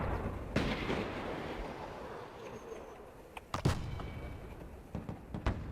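Artillery fire in the video game Broken Arrow, a run of faint distant booms and sharp thuds spread across a low rumbling background, with no talking.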